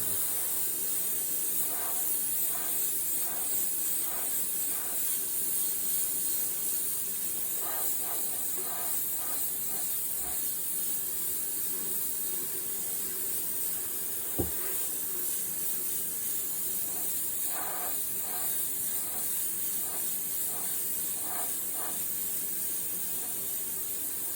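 An airbrush sprays paint for realistic flame artwork with a steady, soft hiss throughout, faint rhythmic ticking in the background and one sharp click midway.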